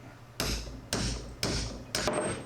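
A one-pound brass hammer strikes a rusty, crusty steel hub on a John Deere MC crawler, four sharp metallic blows at an even pace, close and loud, each with a brief ringing decay.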